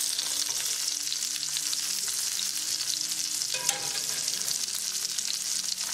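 Salmon fillets pan-frying under a splatter screen, sending out a constant, even sizzle with fine crackling spits throughout, steady and close, with no one speaking.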